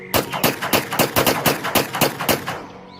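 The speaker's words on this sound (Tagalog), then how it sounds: "pumutok ang isang baril. At dahil doon, nagsimula na ang putukan." Gunfire sound effect in a narrated war story at a quiet military camp, about a dozen loud sharp shots in a rapid uneven burst, then a fading echo.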